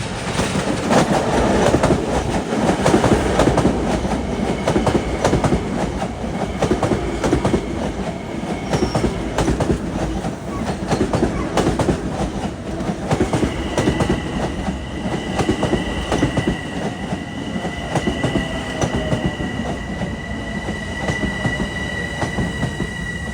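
Long Island Rail Road train 2501 from Ronkonkoma to Penn arriving at Queens Village during the morning rush, a loud rumbling roll with wheel clatter and a drawn-out metallic squeal of wheels as it slows.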